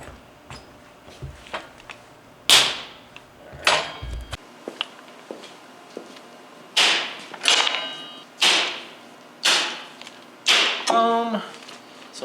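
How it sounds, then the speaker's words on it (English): A True Weld TWI 321 stud welder fires number 10 studs in a garage shop: a series of sharp, loud bangs and crackles, roughly nine bursts spaced a second or so apart, each with a short buzzing arc tail. "We got the TWI 321 from True Weld set up for number 10 studs."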